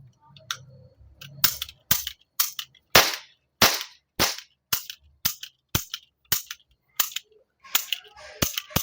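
A toy cap gun firing a loaded ring of caps during Diwali, snapping out about fifteen sharp, loud pops in a fairly quick, uneven sequence, with a little faint background noise at the start.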